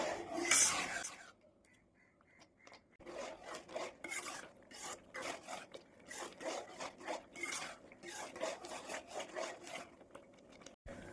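Jackfruit halwa stirred with ghee in a pan: continuous scraping and rubbing of a spoon against the pan in quick, uneven strokes, close and moderately quiet.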